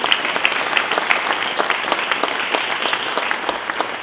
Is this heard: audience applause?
yes